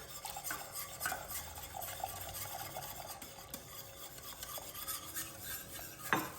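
A spoon stirs a lemon cake egg yolk mixture in a pot, producing a quiet, continuous scraping and swishing with faint metallic taps and a sharper knock near the end, with no talking.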